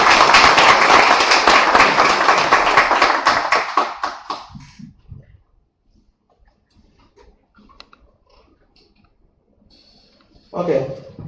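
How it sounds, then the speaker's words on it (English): A crowd bursts into loud, dense applause for about four seconds, then it fades into near silence before a brief noise at the end. "So a big round of applause for that."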